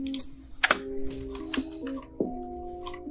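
Computer keyboard keys tapped in a short sequence of crisp clicks, ending with a firmer press of the enter key, close and fairly quiet over a faint electronic hum.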